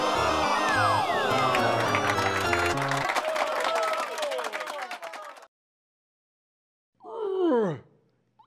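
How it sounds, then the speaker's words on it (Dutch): An audience at a circus performance applauds with a burst of clapping and crowd murmurs that tails off into silence, followed by a brief vocal sound. "Straks mag je in je handen klappen."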